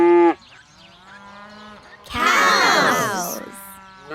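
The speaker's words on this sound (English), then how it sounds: "Cows." Cattle moo in a long, loud low call lasting over a second, following a spoken voice, with a quieter animal call at the very start.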